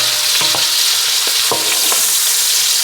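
Pork sausage browning in hot lard, a steady bright sizzle with a few soft stirring scrapes and knocks, close and continuous.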